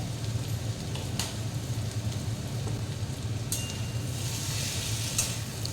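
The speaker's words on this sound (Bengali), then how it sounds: "ভালোভাবে নাড়াচাড়া করে নিয়ে আবার আমি ঢাকনা দিয়ে দেব" Potato and pumpkin curry sizzling in a pan while being stirred, a continuous low frying hiss close by with occasional scraping clicks of the spoon against the pan.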